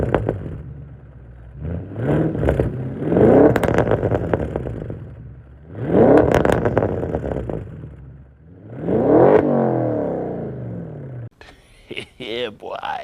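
A loud straight-piped exhaust on a 650 hp Audi revs up in repeated bursts, roaring and falling back four times, with a short voice and clatter at the end.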